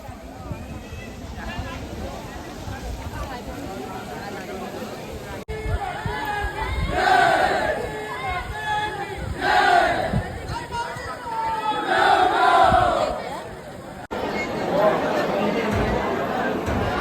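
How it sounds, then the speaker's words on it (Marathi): Devotees crowd the grounds of Ekvira temple, a dense, mid-distance murmur of many voices with louder shouted bursts rising and falling, continuous across the whole stretch. "गर्दी बघा"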